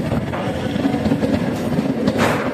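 A train pulling into Krishnanagar railway station, a steady broad rumble and rolling clatter of wheels, close and fairly loud throughout, with no talking.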